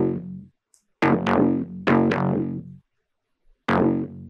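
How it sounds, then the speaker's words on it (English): A synth mid bass from a duplicated Serum preset plays a few punchy, buzzy notes in short bursts, with brief silent gaps between phrases. The notes are fairly loud and play alone. "I have this mid bass number 2"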